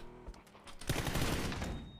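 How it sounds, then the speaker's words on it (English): Gunfire in PUBG, a rapid burst of shots rattling out in the second half after a few scattered cracks, fairly loud and dense. "They're still shooting me!"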